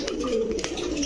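Pigeons at a pigeon market selling breeds such as Pakistani golden and Rajshahi giribaj, heard as low, steady overlapping coos with a few brief brighter rustles, moderately close and continuous.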